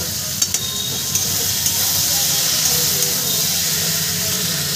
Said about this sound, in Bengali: এবার ভেজে রাখা ডুমুর আর আলুটা আমি এর মধ্যে দিয়ে দেবো। ডুমুর আর আলু দিয়ে আমি সুন্দর করে আরও একটু কষিয়ে নেব।